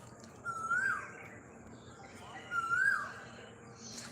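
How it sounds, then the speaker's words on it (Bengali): An Asian koel calls twice from a distance, each a clear rising whistled note about two seconds apart, faint against a quiet rooftop background on a hot day. "এদিকে কু কু করেই যাচ্ছে কোকিল পাখি"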